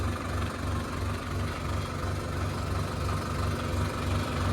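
A tractor engine idles steadily nearby, a low continuous rumble with a regular pulsing beat that holds even throughout, with no voices over it.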